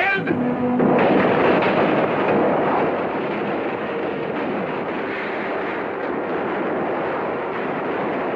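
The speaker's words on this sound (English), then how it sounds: "Stop firing!" Heavy gunfire and booming volleys from a 1956 frontier battle scene set on the Daniel Boone trail, loud and dense throughout with a sustained rumbling roar, while a voice shouts briefly at the start.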